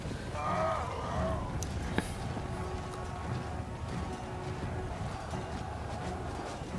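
Medieval battle in a strategy video game, with horses galloping and clattering amid a steady wash of combat noise, one sharp impact standing out briefly early on.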